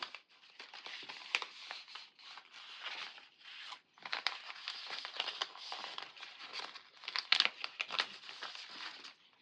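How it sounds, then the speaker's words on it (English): Washi tape stickers being trimmed for a bullet journal spread, a close run of soft paper crinkles, snips and rustles in irregular bursts, faint and without talk. "Let's trim out part of that since you can see it through that a little bit."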